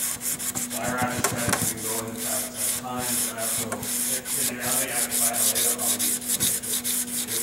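Knife blade grind hand sanded with 400 grit paper on a shaped block, rhythmic back-and-forth rasping strokes, close and steady, with a low hum behind.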